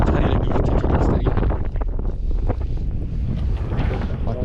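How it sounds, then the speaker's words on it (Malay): Strong wind buffets a fishing boat drifting at sea, roaring and gusting loudly across the microphone with splashing water beneath and a voice speaking briefly within the rush. "Oh angin."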